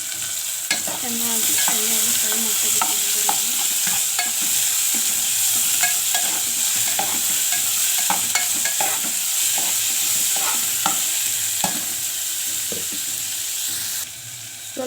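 Onions fry with salt in a pan for pulao, sizzling steadily for a long stretch while a spatula clatters and scrapes in frequent irregular strokes, close and fairly loud, with no one talking.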